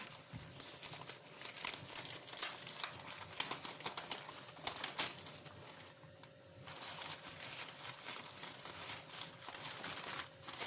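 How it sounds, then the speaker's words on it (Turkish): Packing paper stuffed into a parcel to protect breakable flowerpots is crumpled and rustled up close, in continuous crinkly bursts with a brief quieter pause midway. "kırılmasın diye de baya baya kağıt koymuşlar içine de"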